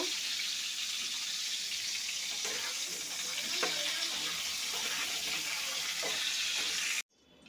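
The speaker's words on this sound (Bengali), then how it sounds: "পটলগুলো এখন ভেজে নেব একটু লবণ দিয়ে দেব" Pointed gourd (potol) pieces with salt frying in oil, a steady broadband sizzle running unbroken for about seven seconds at a constant level, close up with no talk, then cutting off abruptly.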